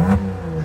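A Toyota 2000GT's two-litre straight-six engine revs in a short, close burst that rises quickly and then settles into a steady idle-like drone.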